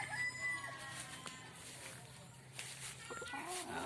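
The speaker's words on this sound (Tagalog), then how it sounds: "dadaan muna ako dito sa aking mga alagang mga manok. At medyo masigla sila ngayon." Pet chickens cluck and a rooster crows at a home yard, faint and scattered, mixed with background talk.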